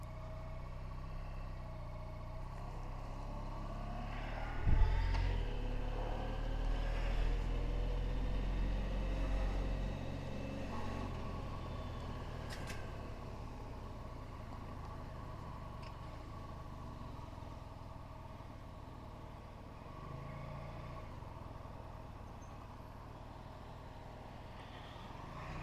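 Morning road traffic going into Leeds, heard from a motorcycle: a long, low, steady engine drone with a brief thump and louder surge early on, then quieter idling hum and distant vehicle noise, no voices.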